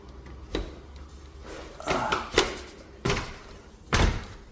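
A front door on a house being remodeled is pushed shut repeatedly and fails to latch, giving four or five hard thumps and slams spaced unevenly over a few seconds, close by with a faint background hum.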